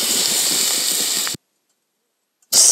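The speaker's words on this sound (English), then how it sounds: "And then we start cooking on the fire. The hot plate, my drifter fire pit." Tofu browning on a hot plate set over a drifter fire pit sizzles with a loud, steady hiss, breaks off abruptly into silence, then bursts back in near the end.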